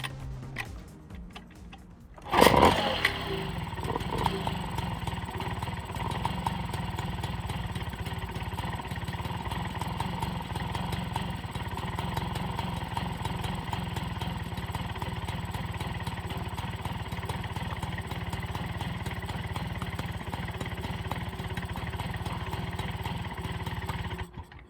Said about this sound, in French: Vous devez tout simplement presser votre pied sur le kick.